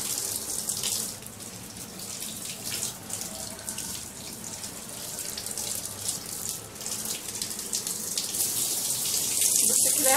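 Tap water runs steadily, splashing onto a plastic mattress cover to wet it and rising a little toward the end, close and continuous with nothing else over it.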